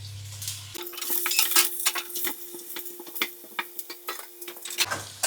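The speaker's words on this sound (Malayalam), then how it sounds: "ഉള്ളി ഇട്ടു, മുളകിട്ടു," Onion and chili frying and being stirred in hot oil while a fish biryani is cooked, a close steady sizzle broken by frequent scraping stirs and light clinks of a utensil against the pan.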